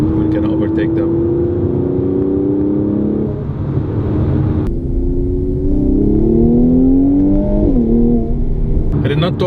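2018 Mercedes-AMG C43 Coupe 4MATIC engine and exhaust while driving, a loud close droning growl that rises through gears with shifts and dips, heard under someone talking.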